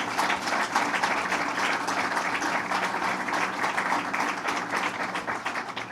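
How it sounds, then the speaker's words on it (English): A crowd claps for New York Lieutenant Governor Bob Duffy at a business expansion announcement, sustained dense applause holding at an even, fairly loud level throughout. "Let's give him a round of applause."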